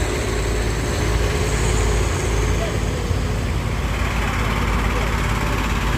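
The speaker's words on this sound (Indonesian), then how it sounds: "suara mesinnya bosku." A steady truck engine drone runs throughout, loud and continuous, with a low rumble and broadband hiss like a motor idling up close.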